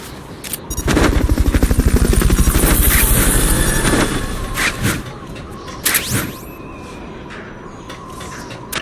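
A helicopter rotor in Metal Gear Solid Peace Walker HD Edition thumps loudly in a steady beat for a few seconds, then fades, followed by scattered game sound effects.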